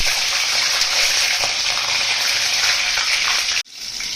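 Black cumin seeds (jeera) fry in a hot pan with a loud, steady sizzle that cuts off abruptly near the end before resuming faintly.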